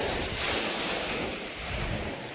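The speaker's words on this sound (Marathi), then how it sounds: "त्या विहिरीत पाणी पडतंय" Steady, rushing water pours and splashes continuously into a well nearby, a dense roar that swells slightly and never pauses, with no voices.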